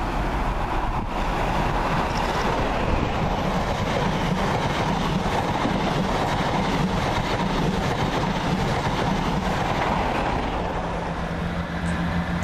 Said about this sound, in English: we start with Nottingham to London St Pancras high speed train